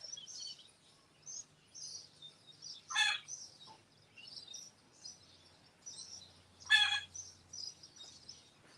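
Backyard chickens clucking and squawking in a series of short calls, with two sharper loud cries standing out among softer chatter, fairly faint and nearby.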